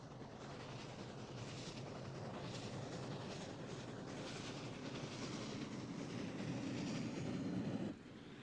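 Union Pacific 3985, an oil-fired steam locomotive, runs with a steady, loud, broad roar and rumble that holds for several seconds before dropping off abruptly near the end.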